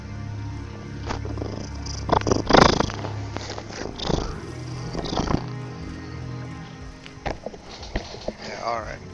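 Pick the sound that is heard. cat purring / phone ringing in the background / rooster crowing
cat purring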